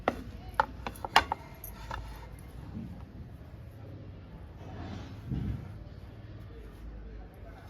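A knife cuts the crusts off bread slices for double ka meetha with several sharp, close taps and crunches early on, then quieter handling. People talk throughout.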